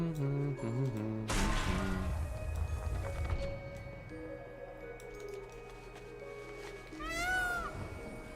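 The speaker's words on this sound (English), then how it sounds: "Meow. Sounds like my cat." Cat meow from a World of Warcraft game, a single moderate call heard amid busy game music and sound effects, with a brief rising tonal chirp near the end.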